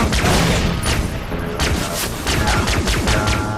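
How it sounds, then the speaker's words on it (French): In-game explosions and gunfire in Far Cry 3 Blood Dragon as a grenade goes off, heard as dense rumbling blasts and crackling shots with a game soundtrack layered over them, loud throughout. "Petite grenade là-bas pour les deux qui sont loin."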